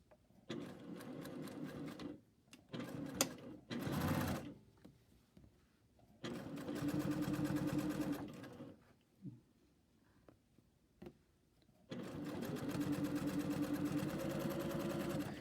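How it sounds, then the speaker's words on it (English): A flat-bed sewing machine running in several bursts of steady rapid stitching, separated by short pauses with light clicks and handling noises, close up. "you can see how much easier it is to sew with a flat bed"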